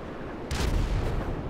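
Bombs dropped from an LF-22 Starling jet in Grand Theft Auto 5 burst as a dull, booming explosion that swells in midway through and rumbles on, fairly loud against steady game background noise, with no speech.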